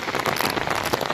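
Steady rain pours onto a paddy field in an Odia village, a dense continuous hiss of drops hitting water and ground, close and fairly loud, with no voices.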